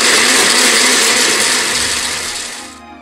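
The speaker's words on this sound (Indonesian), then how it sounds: "Dipotong kecil-kecil lalu di blender dengan menggunakan 600 ml air." An electric blender runs loud and steady, whirring as it blends chopped suji leaves with 600 ml of water, then winds down and stops near the end.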